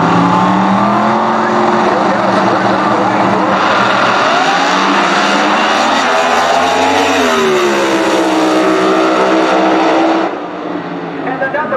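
Pro Mod drag race cars at the 2020 NHRA DENSO U.S. Nationals thunder past with a loud, sustained engine roar that surges and shifts pitch before cutting off sharply near the end.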